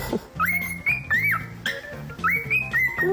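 A pet parrot gives a run of sharp rising and falling whistles and chirps, close and loud, repeating in quick phrases over about three seconds.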